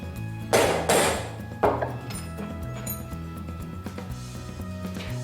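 A hammer strikes a steel punch to mark metal for drilling, three sharp metallic taps close together near the start, followed by quieter clinks and handling noise.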